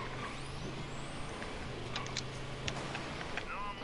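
A car is driven in the Payday 3 video game, giving a steady, dense road-and-engine roar with a low hum and faint high whines throughout.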